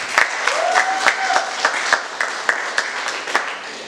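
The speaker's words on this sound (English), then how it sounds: "I think he deserves another round of applause." A volunteer induction audience gives a round of applause: brisk, sharp claps from a moderate crowd, fairly close, with a brief whistle-like tone early on, steady for about four seconds.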